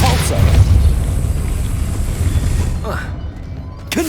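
A Depulso force spell is cast in Hogwarts Legacy, a loud booming blast at the start that rolls into a long fading rumble, with a sharper burst near the end.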